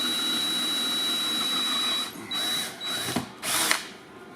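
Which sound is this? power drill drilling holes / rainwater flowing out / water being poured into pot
power drill drilling holes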